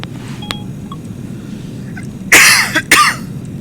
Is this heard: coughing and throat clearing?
yes